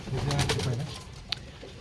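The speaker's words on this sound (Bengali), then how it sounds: "এটা একটা ভালো পায়রা" A pigeon gives a soft, low coo close by, brief and faint, with a sharp tick near the end.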